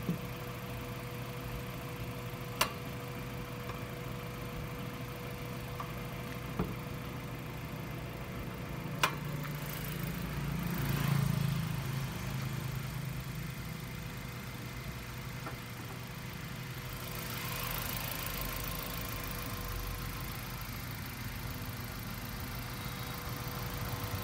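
A 2004 Mazda 3 engine idles, recorded close in the open engine bay. The low, even hum runs steadily, with a few faint clicks and a brief swell partway through.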